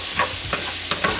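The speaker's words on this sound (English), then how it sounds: "I am just going to mix this well and cook for about another 5 minutes." Frozen vegetables fry in a skillet with close sizzling and several short scraping strokes of stirring in a brief burst.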